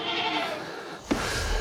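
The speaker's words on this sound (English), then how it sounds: "Hear the pigs hollering in the background." Pigs hollering in the background on a farm, a loud continuous squealing racket with one brief sharper cry near the middle, no talk.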